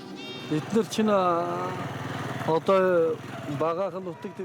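Goats bleat at a sparse desert watering hole in the Gobi of Mongolia, several wavering calls close by and overlapping, with brief bursts and gaps between them.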